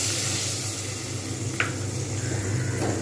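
Onion frying in a covered pan while a capsicum paneer curry is being made gives a steady, even sizzle and hiss throughout, close and moderately loud, with no talk.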